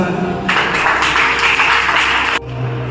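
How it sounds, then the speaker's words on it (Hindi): An audience at a school poetry gathering breaks into loud, dense applause that runs for about two seconds and then cuts off abruptly, leaving quieter room sound. "हमारे मांगीलाल जी गौरव सर का भी स्वागत करें जोरदार तालियों के साथ।"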